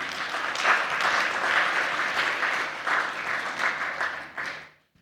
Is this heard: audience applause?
yes